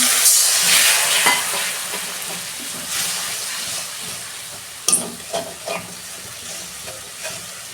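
Ground dried red chili paste masala sizzles and crackles in a hot pan as a little water is added for a spicy bhola fish curry, a steady loud fry with sharp bursts and spatters toward the end.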